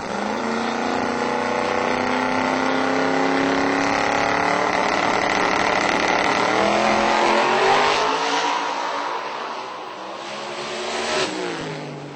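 A drag race car at a Texas radial-tire drag racing event makes a pass down the strip: a loud, close, sustained engine roar climbs in pitch through the gears for about twelve seconds, then eases slightly near the end.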